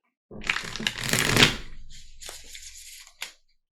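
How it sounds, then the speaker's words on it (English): Tarot cards from a Rider-Waite deck being riffled and shuffled close up, a dense papery flutter that builds then settles, ending with a quick tap of the deck. "Generally, I do 4 shuffles with the Rider-Waite deck."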